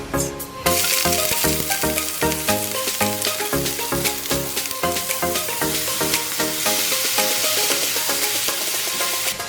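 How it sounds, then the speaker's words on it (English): Onion cubes fry in warm olive oil with a steady loud sizzle while a utensil stirs and scrapes the pan in repeated strokes, under steady background music. "Warm olive oil, add the onion cubes and fry till they're softened."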